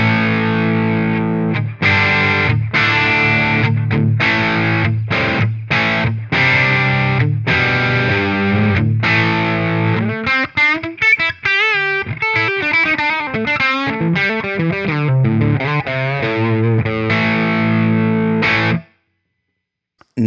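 Electric guitar through a Marshall JCM 900 amp simulation (Brit 9000), heavily distorted and loud, first chugging rhythmic chords with short gaps, then sustained bends and a lead run before cutting off into silence.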